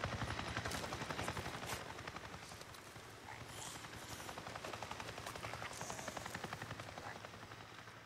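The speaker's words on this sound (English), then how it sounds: "There's a helicopter?" In the video game Days Gone, steady helicopter rotor chop flies overhead with rapid thumping pulses and bursts of gunfire over a dense game soundscape, loud and continuous throughout.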